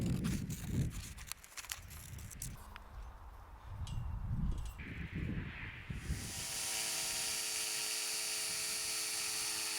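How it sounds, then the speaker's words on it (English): A jigsaw cutting out wooden Adirondack chair pieces, heard as a loud, steady buzzing whine that starts about two-thirds of the way in and runs to the end. Before it come scattered workshop clatter and handling noises. "I would set the pieces in place and trace around it, then come back with a jigsaw to cut it out."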